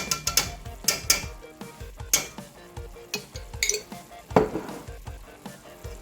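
Ginger garlic paste sizzles in a hot pan while a spoon scrapes and stirs it, giving repeated clinking strokes against the metal over a steady frying hiss, close and fairly loud, in a kitchen making an Indian-style Japanese curry.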